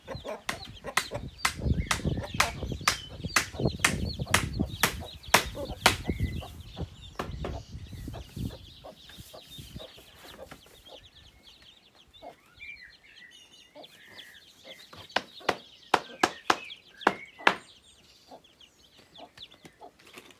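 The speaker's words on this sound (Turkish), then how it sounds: "İçeriden ses geliyor. Civciv sesleri." Many high, thin peeps of newly hatched chicks sound in quick succession, dense at first then scattered, with hens clucking nearby in the background.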